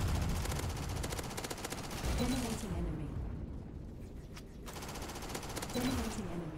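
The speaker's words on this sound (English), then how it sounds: "that was some lucky accurate shooting right there" Rapid machine-gun bursts fire almost without pause in the robot shooter Assault Bots, dropping out for a moment midway before the rattling fire resumes just as densely.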